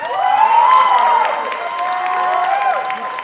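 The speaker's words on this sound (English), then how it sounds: "Let's give him a big round of applause." Applause and cheering from an audience at a Le Wagon Tokyo demo day, with whoops and high voices rising over steady clapping throughout.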